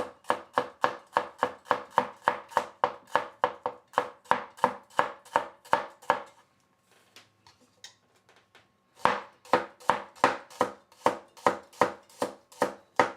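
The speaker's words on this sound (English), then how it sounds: "I'll probably run the cleaver through them and chop them up, but like a rough chop is fine." Cleaver rough-chopping ingredients for dan dan noodles on a board: fast, steady rhythmic thwacks, close and loud, stopping briefly for a few seconds of quiet handling before the chopping resumes at the same brisk pace.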